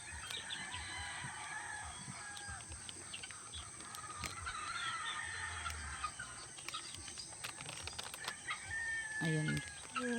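Sixteen three-week-old hatched chicks sit in their cage, with faint cheeps and soft clucking scattered over a low hum of background noise, and a brief cluster of louder chirps near the end.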